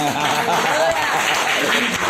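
A church congregation claps during a sermon, a brief burst of steady applause mixed with a voice speaking over it.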